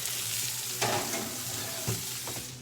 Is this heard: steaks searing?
yes